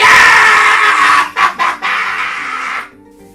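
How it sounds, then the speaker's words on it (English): Loud, sustained screaming from people celebrating a high school graduation, close and harsh, broken by two or three brief gaps before it cuts off abruptly near the end, with no talk. "That's enough screaming!"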